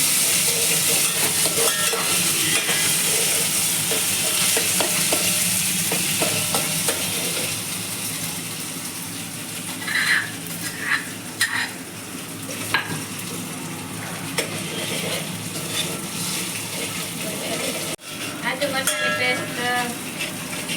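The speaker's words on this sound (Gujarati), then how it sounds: "તેલ ગરમ થઈ ગયું છે એમાં હવે આદુ મરચાં અને લસણની પેસ્ટ નાખી છે" Ginger, chili and garlic paste frying in hot oil for fenki, a steady loud sizzle close up, with occasional clinks and scrapes of stirring and a voice speaking briefly.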